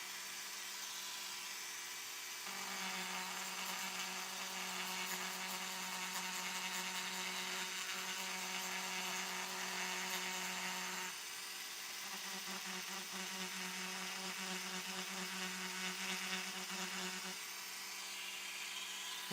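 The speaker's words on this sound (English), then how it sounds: "take the grind wheel on the Dremel and shave off the corners on that octagon to make it circle" A Dremel grinding wheel whines steadily while shaving the corners off an octagon-shaped piece, a bright continuous buzz that rises in pitch and load in two long passes.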